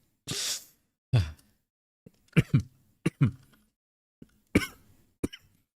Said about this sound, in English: I'm getting rage baited by my own cough.